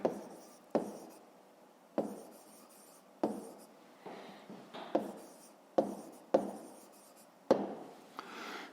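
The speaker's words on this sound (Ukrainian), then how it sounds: "записуємо відповідь, пишемо відповідь" A pen writes an answer on paper in short scratchy strokes, with about a dozen distinct bursts each starting with a tap, close and quiet, with no voices.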